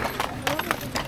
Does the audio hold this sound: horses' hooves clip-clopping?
yes